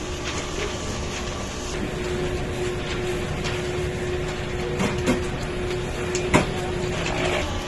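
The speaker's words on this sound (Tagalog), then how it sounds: "Head clean." A printer runs its head cleaning cycle with a steady mechanical hum and a faint tone, broken by a few small clicks.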